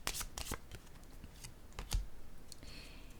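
Playing cards are handled and laid out at close range, a few crisp snaps and flicks followed by softer sliding rustles, moderately loud and unaccompanied by voices.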